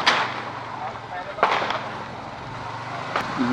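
Firecrackers bursting on Diwali night in decorated streets, heard as a few sharp distant cracks over steady motorbike and street noise.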